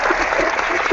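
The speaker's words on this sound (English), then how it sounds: "let me give you a clap" Clapping on a comedy talk show makes a brief, dense burst of hand claps that sounds like quick applause.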